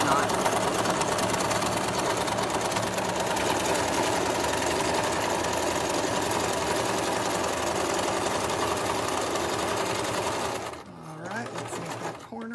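Close, continuous whir of a sewing machine stitching a drawstring gift bag, running steadily for about ten seconds before stopping, with a voice talking over it.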